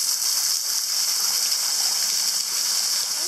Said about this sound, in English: I'm in behind the waterfall for the warm bath